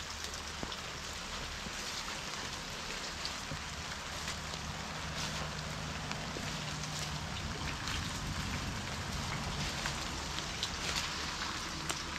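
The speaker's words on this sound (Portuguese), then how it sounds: "Olha a chuva que tá" Steady rain falls over a sugarcane plantation, a dense, continuous hiss of drops spread evenly across the clip with no voices.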